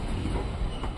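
A train with LHB coaches rumbles past near Pandavapura station on the Mysore line, a loud broadband roar with a faint clatter of wheels.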